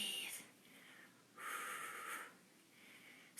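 Forceful breaths during a resistance band workout, two strong airy exhalations with a quieter gap between them, close and clear, with no talk.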